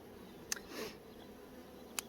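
Honey bees hum faintly around hive frames and a honey super holding brood, a low steady buzz broken by two sharp clicks of handled equipment.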